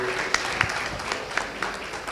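An audience at an award ceremony for a poet claps loudly and continuously for a couple of seconds, a dense applause with a few sharper individual claps standing out.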